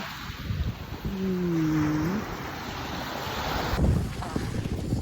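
Sea waves wash onto a beach under strong wind and microphone buffeting, a steady broad roar with a surge near the end, while a short tonal call and people's voices sound faintly in the background.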